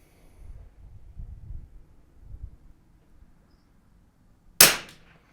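One sharp shot from a Rim-X .22LR rifle rings out near the end, loud and close with a short decay, after a stretch of quiet low rumbling.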